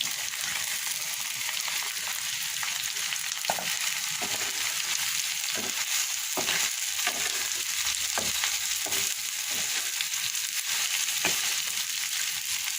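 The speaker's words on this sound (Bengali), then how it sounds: "এখন ঢেঁড়স ভাজি করবো তারপরে আজকে একটু আদা ভাজি করে নিয়েছি এবার ঢেঁড়স কুটে রেখেছি এগুলো দিয়ে দিলাম" Cut okra (lady's finger) frying in a pan with ginger, a dense, constant sizzle of hot oil broken by light clicks and scrapes of stirring, close and steady throughout.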